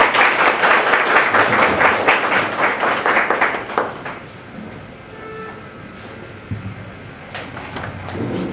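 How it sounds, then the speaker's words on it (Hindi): An audience at a leadership development program in Hiranpur, Pakur, Jharkhand breaks into loud applause for about four seconds, dense clapping that then fades to quieter room sounds with scattered small knocks. "बड़ा आप अली का थोड़ा स्टेज जोरदार तालियां होनी चाहिए।"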